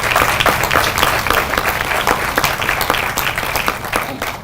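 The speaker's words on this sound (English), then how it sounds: "So a round of applause for them." A round of applause for state legislators at a governor's housing initiative launch, steady dense clapping from a crowd that holds for the whole stretch with a faint voice or two underneath.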